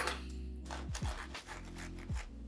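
A knife cuts through a freshly baked, soft homemade vegan burger bun with a few quiet scraping, rasping strokes over a low, steady background hum.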